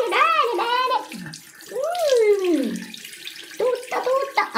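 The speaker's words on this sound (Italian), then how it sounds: "Andiamo insieme in bagno. Allora, numero uno, bisogna lavarsi il viso." A bathroom tap runs while a face is washed, a steady hiss of water sitting beneath a woman's close, clear talking throughout.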